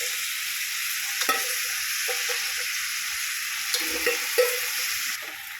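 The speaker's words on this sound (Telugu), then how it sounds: "నూనె లేచి ఇది ఫ్రై చేసుకోవాలి" Broad beans frying in hot oil with red chillies give a steady, close sizzle with occasional stirring scrapes and pops, continuous and with no talking.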